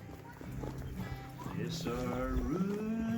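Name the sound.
horse walking on a trail during a pack trip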